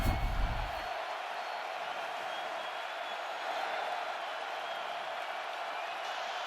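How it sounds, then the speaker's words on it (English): Stadium crowd at the Indiana vs. Iowa college football game, a dense continuous roar of cheering held at a steady level after a brief louder thump at the start. "They just threw an interception, but the crowd's into it"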